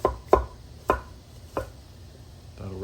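Broccoli being chopped with a knife on a cutting board for a beef and broccoli stir fry, four sharp, close knocks spaced irregularly, then a quieter scraping sound at the end, with no talking.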